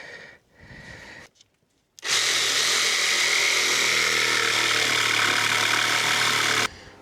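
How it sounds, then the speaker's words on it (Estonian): Electric jigsaw cutting through wooden boards for a garden bed frame and walkway, a loud continuous whine starting after a short pause and running steadily for several seconds before stopping. "teeme lihtsalt tavalise tikksaega need lõiked ära"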